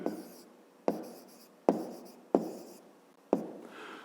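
A pen writes by hand on paper in five distinct scratchy strokes, each a sharp onset fading into a dry scrape, with brief pauses between them, close and fairly quiet.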